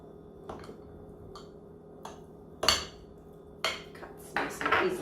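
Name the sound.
knife slicing a Marlborough pie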